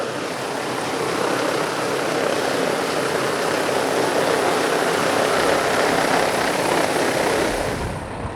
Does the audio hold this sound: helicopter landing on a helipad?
yes